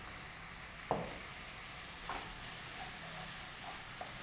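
Chopped capsicum and finely cut cabbage sauté in a pan with a quiet, steady sizzle, broken by a few light spatula taps, faint and without voices.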